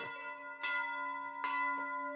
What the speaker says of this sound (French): C'est la cloche que mes collègues du conseil communal m'avaient offert à fin 2007